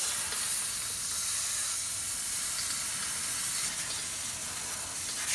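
Water sprays steadily from close by to rinse brake dust off the wheel of a 2000 Saturn SL2 during brake pad and rotor work, a constant broad hiss lasting the whole stretch with no talk.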